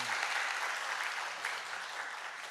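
Sustained applause from a church congregation after a saxophone hymn performance during a morning service, a dense steady wash of clapping that fills the whole stretch at even strength.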